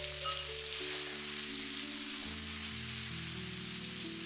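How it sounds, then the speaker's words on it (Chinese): Diced tomatoes stir-fried in a wok with ginger and garlic, a steady, dense sizzle and hiss close up with no break, along with a faint electronic hum. "接下来把西红柿丁直接倒在锅中，快速炒出西红柿的汤汁"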